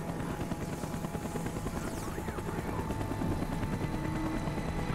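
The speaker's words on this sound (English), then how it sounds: "The chopper is coming around again." Helicopter rotor chop in the Call of Duty: Black Ops video game, a steady loud whirring drone throughout with faint gunfire mixed in.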